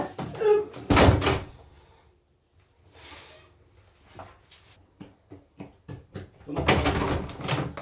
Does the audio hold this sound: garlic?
no